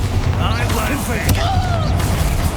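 A Bombarda explosion spell in Hogwarts Legacy, a punchy blast with one sharp crack amid booming game sounds, while a voice talks throughout.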